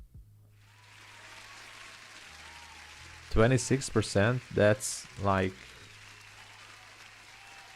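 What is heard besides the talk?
crowd applause sound effect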